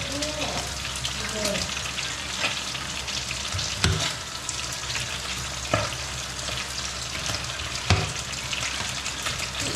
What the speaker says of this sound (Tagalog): Igisa natin.